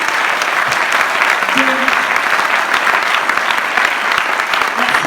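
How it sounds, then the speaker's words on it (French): An audience at a foundation's anniversary event applauds loudly and steadily throughout, with dense claps and faint voices mixed into the crowd noise. "je vous demande de l'applaudir"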